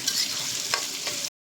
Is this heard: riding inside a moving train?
no